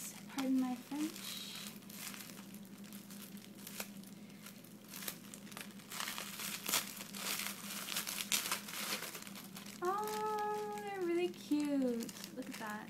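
Plastic packaging around a doll's shoes being cut and pulled open, scattered crinkling and snipping up close, with someone speaking at the start and again near the end.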